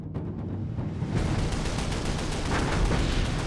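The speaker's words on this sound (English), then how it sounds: "Laffy unleashes an anti-aircraft barrage. First, the main battery, 5-inch radar-directed guns." Rapid barrage of 5-inch radar-directed anti-aircraft guns fired from a WWII destroyer under kamikaze attack, a dense continuous roar of overlapping blasts at close range with no gaps.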